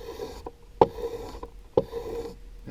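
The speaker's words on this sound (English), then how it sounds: "right now, we're polishing this edge. It's a coarse grit" A knife edge is drawn across a coarse-grit hone in two or three distinct scraping strokes, close and crisp with short pauses between them.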